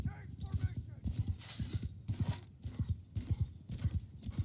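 Horse hooves galloping in the video game War Sails, a quick rhythmic clip-clop of several horses at close range with someone speaking over it.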